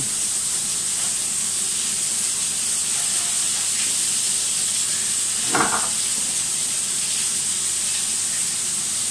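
Beef burger patties with onion frying in a pan give a steady, fairly loud sizzle and hiss throughout, with one brief clack partway through.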